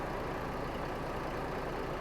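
Euro 5 truck engine idling in a driving game: a steady, low, rumbling drone that holds at an even level with no change in pitch or loudness.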